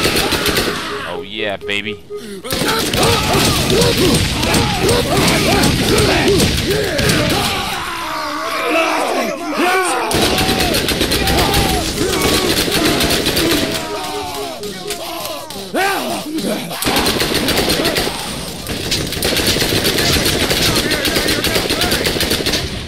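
Rapid automatic gunfire in the Borderlands shooter, the character Brick fighting in New Haven, loud and sustained in long bursts with short gaps, with a voice and yelling over the shots.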